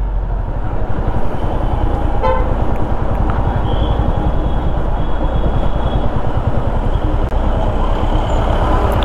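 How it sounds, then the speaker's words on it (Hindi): A train running alongside the road on the Darjeeling route rumbles past close by with a loud, steady rhythmic clatter of wheels, and a brief horn toots once early on. "जब साथ में ट्रेन भी चल रही हो"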